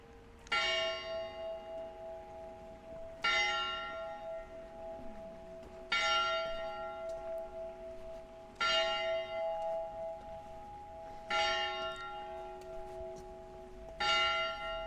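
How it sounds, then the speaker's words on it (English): A deep, resonant clock bell chimes six times at slow, even intervals, each strike ringing out and fading before the next. "the clock strikes 6."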